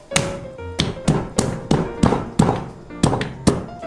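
A blade chops into the backbone of a large shark of over 60 kg in a run of about nine heavy, evenly spaced blows. Each hit lands as a loud, close thunk with a slight crack, and there is no talking.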